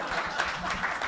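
A theatre audience applauds with dense, continuous clapping through the whole brief moment, even and moderately loud with no gaps.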